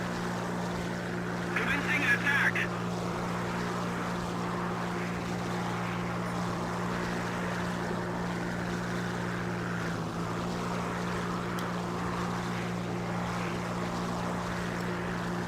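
Twin engines of a Ta-154 heavy fighter in War Thunder drone steadily and loudly throughout, a constant low hum with wind noise, while a voice talks over it.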